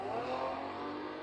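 A car engine accelerates steadily as it revs up, a close, continuous roar with no speech over it.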